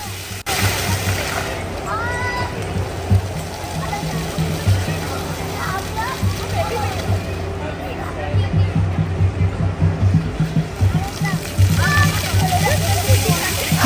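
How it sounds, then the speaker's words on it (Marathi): Water fountain jets spray and splash in a children's play zone at a park in Thane, a continuous watery wash beneath children's shrieks and chatter, with adult talk over it. "पाण्याचे फवारे या ठिकाणी उडवले जातात, त्यामध्ये मुले मनसोक्त भिजून एन्जॉय करत होते।"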